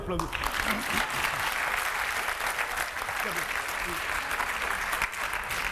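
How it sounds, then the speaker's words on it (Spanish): Sustained audience applause at a Spanish-language storytelling performance, dense and steady clapping filling the whole stretch, close and loud. "Aplaudí."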